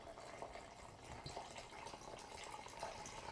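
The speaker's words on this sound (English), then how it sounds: "I'm going to fill this water up to maximum." Water pours into a container up to its maximum fill line, a faint, continuous trickling and splashing with small drips throughout.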